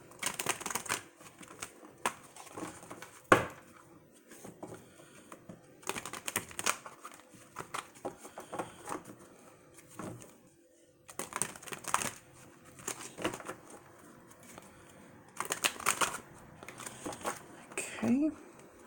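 Tarot cards being shuffled in several bursts of crisp riffling and flicking, with pauses between, close to the microphone.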